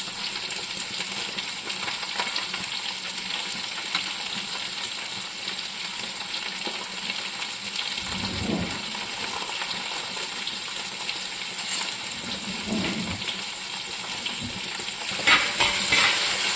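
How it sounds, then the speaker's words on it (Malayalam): Sliced onions, small shallots and green chilies sauté in a pan for a Karaikkudi-style chicken curry. A loud, steady close-up sizzle hisses throughout, broken by a few dull stirring thumps, with no voices. "ഇത് നന്നായിട്ടങ്ങ് വഴറ്റണം ഗോൾഡൻ കളറിൽ വരണം"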